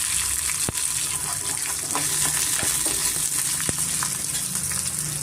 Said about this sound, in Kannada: ಸಣ್ಣೀರುಳ್ಳಿ ತೊಗೊಂಡಿದ್ದೀನಿ ಟೇಸ್ಟು ತುಂಬ ಚೆನ್ನಾಗಿರುತ್ತೆ ಇದು ಇದು ಚೆನ್ನಾಗಿ ಸ್ವಲ್ಪ ಚೆನ್ನಾಗಿ ಫ್ರೈ ಮಾಡ್ಕೊಬೇಕಾಗುತ್ತೆ ಮೀಡಿಯಮ್ ಫ್ಲೇಮಲ್ಲಿ